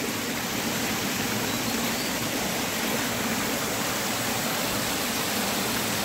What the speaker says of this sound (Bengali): the nature's sound, the waterfall sound